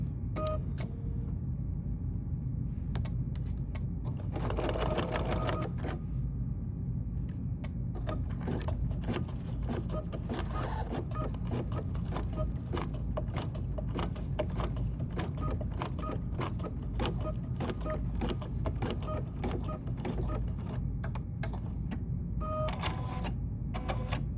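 An embroidery machine stitches a basting outline on a baseball cap, giving a continuous rapid mechanical clatter that runs steadily throughout, close and fairly loud, with no voices.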